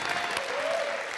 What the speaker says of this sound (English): Let's give it a round of applause for our Nations Cup champion.